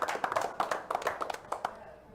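A small audience at a poker tournament final table gives brief, scattered applause, around a dozen distinct claps in an uneven rhythm, fairly quiet.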